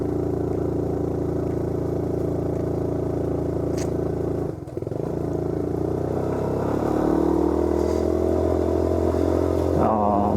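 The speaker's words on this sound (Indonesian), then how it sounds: "saya pakai motor lama, jadi harus ya ganti ke gigi 1 terus beberapa kali" Old motorcycle climbing a steep, roughly 45-degree slope in first gear on an abandoned, overgrown road: a loud, strained engine drone that dips briefly midway, then labours on with a shifting pitch and some clattering, no talk.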